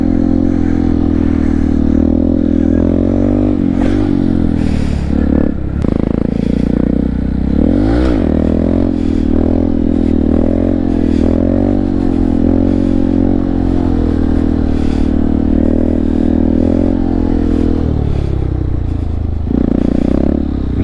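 A Honda Grom motorcycle engine drones close and loud through a coaster wheelie, holding a steady low hum with small pitch dips and swells, plus wind rumble and occasional clatter.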